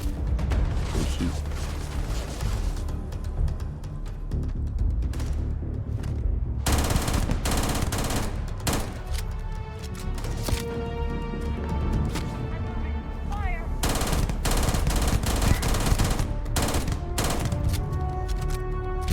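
Rapid bursts of gunfire from a legendary-modded weapon in Starfield, loud and dense, running almost continuously with brief gaps, layered over game effects and mechanical clatter.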